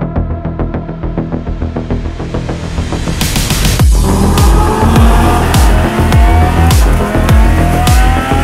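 A Lamborghini Huracan Super Trofeo Evo 2 race car drives hard, with loud, close engine noise climbing through the revs. A sharp crack is followed by repeated rising and dropping bursts as it shifts and accelerates.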